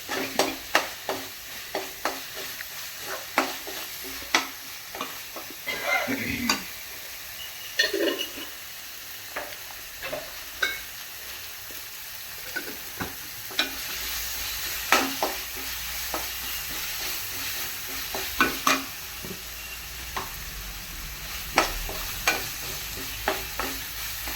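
A spoon stirs palak paneer gravy frying in a pan at home, with a steady oily sizzle broken by repeated scraping strokes and clinks against the pan. No one speaks.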